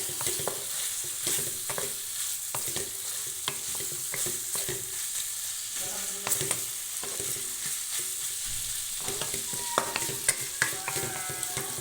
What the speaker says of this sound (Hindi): गोश्त ऑलरेडी गला हो गया तो इसको भूनना है